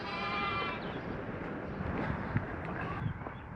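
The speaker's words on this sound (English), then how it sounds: "Bye bye sheep." Sheep bleating outdoors on a farm as the flock is moved to fresh pasture, a steady rough chorus of blended calls under wind noise on the microphone.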